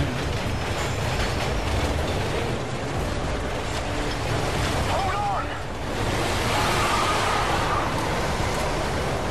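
A loud, continuous rumbling roar of a passing train in the video game Modern Warfare 3, broad and hissing like wind, filling the whole stretch without a break.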